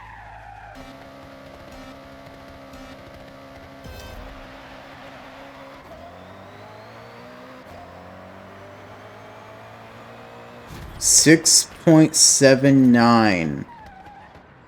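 A 2,300-horsepower Mazda Furai race car on drift suspension and drag tires in Forza Horizon 6 hums at a steady low engine drone, then bursts into loud tire squeals and skids near the end, with someone talking throughout.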